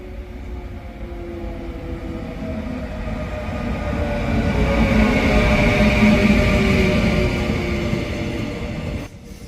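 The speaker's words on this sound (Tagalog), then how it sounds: "Yan yung train" A train passes in South Korea with a steady, loud rumble that swells toward the middle and then cuts off sharply near the end, with no voices over it.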